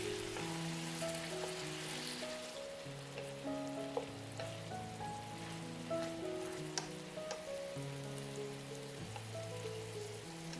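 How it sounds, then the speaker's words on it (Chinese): Pork ribs pan-fry in a sugar glaze, golden on both sides, giving a soft, steady sizzle and crackle throughout, faint and close, with gentle music underneath. "底面煎至金黄之后翻面，把另外一面也煎至金黄。"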